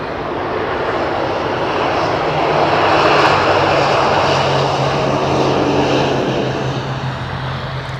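A turboprop airliner landing at London Heathrow in wet weather, its propellers switched to reverse pitch, produces a loud, steady roar with a swelling mid-section and a low droning hum throughout, no voices.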